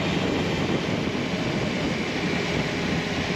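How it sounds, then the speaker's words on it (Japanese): A Japanese commuter train runs past close by, heard from a spot by the tracks during a motorcycle ride: a steady, loud, broadband rumble and roar that holds at an even level throughout, with no talk. "ちょうど目の前を電車が通ってます。"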